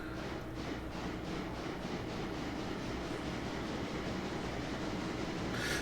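Steady rumble and rhythmic clickety-clack of a locomotive hauling full coal cars in the railroad game Railroader, continuous rolling wheel noise with regular beats.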